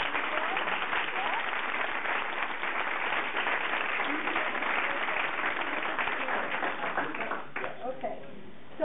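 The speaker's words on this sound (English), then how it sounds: "how about we give Håkon a round of applause" Audience applause for speaker Håkon at a tech talk: a dense, steady wash of clapping that holds for several seconds, then thins and breaks up near the end.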